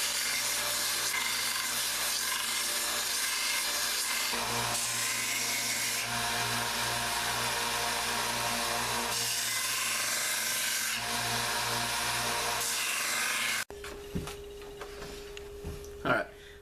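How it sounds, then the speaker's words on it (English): A Dremel run slowly over the edges of a wooden shuttle card for an inkle loom gives a steady whirring, rasping grind that wavers in pitch, then stops, leaving quiet handling sounds. "I'm using a Dremel here, and I'm just going in it pretty slow right now, just smoothing those edges down."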